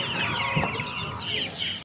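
Chickens cluck and chatter continuously at close range at a busy village livestock market where ducks and guinea fowl are also sold, a dense layered flock sound with no talk.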